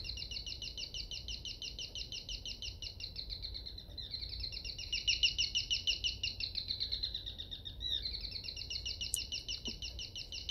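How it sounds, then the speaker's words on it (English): A small bird chirps indoors in a house in the game Devotion, rapid trilling high-pitched warbles running almost continuously and dipping in pitch a few times, fairly close and clear over a quiet room hum. "There's a bird in the house."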